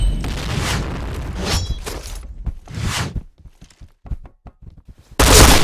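Rapid gunshots from the video game Point Blank ring out in dense bursts, then a string of sharp separate cracks, ending on a loud sustained blast; the shots are close and loud with no talk.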